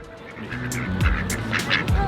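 A duck being fed by hand at a children's ranch gives a few loud, close honking quacks, with a couple of sharp calls rising above steady outdoor noise.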